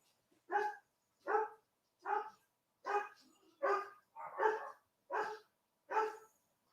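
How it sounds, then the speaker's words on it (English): Dogs barking nearby, eight sharp, evenly spaced barks with short silent gaps between them and no talking. "You hear the dogs? Isn't that a lovely sound?"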